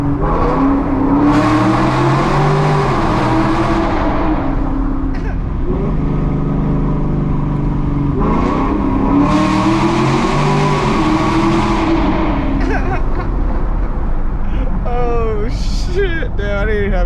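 A 6th-generation Camaro SS making about 500 wheel horsepower on Mickey Thompson drag radials accelerates hard through a tunnel, its engine roaring and rising in pitch over several surges, loud and reverberant from inside the car, with someone talking near the end.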